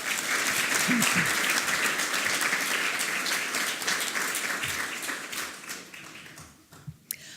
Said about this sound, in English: Will you please give him a round of applause?